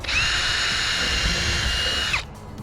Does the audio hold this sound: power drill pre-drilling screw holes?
yes